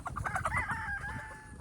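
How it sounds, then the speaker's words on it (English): A hen on a farm with winter coops gives a rapid run of close clucks that slide into a drawn-out, crow-like call, fairly faint and heard alone. "You got a chicken!"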